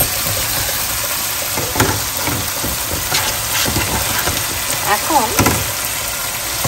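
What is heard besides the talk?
lotta shutki fish dropped into masala and frying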